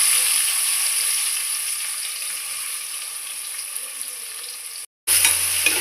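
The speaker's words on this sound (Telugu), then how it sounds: "ఉల్లిపాయ బాగా సన్నగా కట్ చేసుకొని బాగా ఎర్రగా వేగాలండి" Thinly sliced onions fry in hot oil for a chicken curry, a loud, close, steady sizzle that runs nearly unchanged, breaks off in a brief silence, then resumes just as strongly.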